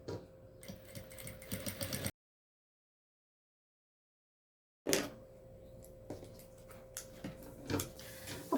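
Sewing machine stitching fabric to batting, a rapid ticking mechanical rattle close by that runs in two bursts separated by a silent gap.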